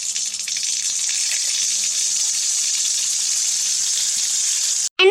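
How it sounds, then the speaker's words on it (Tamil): Water gushing steadily from a tap in a Tamil cartoon household scene, a bright continuous hiss that holds the whole time and cuts off abruptly near the end. "தண்ணி வருதுடியோய், குடத்தெடுத்து வையே."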